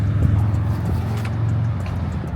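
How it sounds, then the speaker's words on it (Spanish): Car traffic moving along a busy street, recorded with a small handheld camera's built-in microphone: a steady low engine rumble and road hum that stays constant throughout, moderately loud and mixed with faint outdoor noise. "Ahorita hay mucho movimiento de carros."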